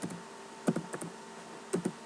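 Java code is typed into NetBeans on a computer keyboard: a few soft, close keystrokes in small quick clusters with short pauses between.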